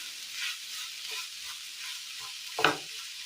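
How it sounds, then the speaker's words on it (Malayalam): Coconut paste is stirred into a Kerala-style curry in a pan: soft scraping stirs over a faint sizzle, ending in one louder clank of the spoon against the pan. "നന്നായി ഒന്ന് മിക്സ് ചെയ്തെടുക്കാം."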